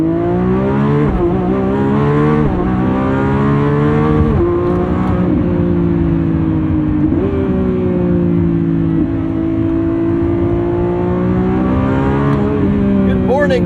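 A 2025 Lamborghini Revuelto 1,001 hp V12 accelerates hard in Corsa mode, its engine roaring close up and climbing through several quick upshifts in repeated rising sweeps, loud and continuous throughout.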